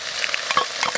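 Garlic and chopped chili are stir-fried in hot oil in a clay pot, a close, steady sizzle broken by quick scraping strokes of the spatula, with no one talking.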